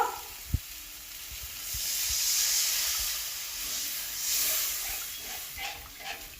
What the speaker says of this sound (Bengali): এখন এর মধ্যে পরিমাণ মতো জল দিয়ে দেব।